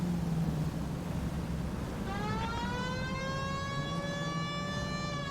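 Police siren in the L.A. Noire video game rises in pitch and wails steadily from about two seconds in, over a constant rumbling background, with no talking.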